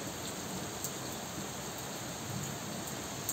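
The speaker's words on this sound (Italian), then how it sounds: "sentire ancora come piove." Steady rain falls on a Rome street, a constant dense hiss of drops with a few faint ticks, heard alone at moderate volume.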